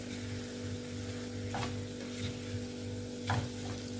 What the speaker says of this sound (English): The water has dried up and we are frying the beef now.